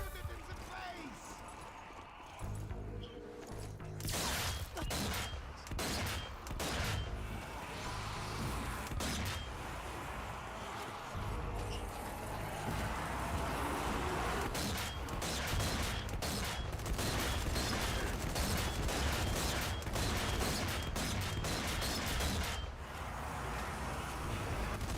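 Rapid gunfire from a weapon in a live-streamed video game, bursts of shots crackling through most of the stretch under almost constant talk from players.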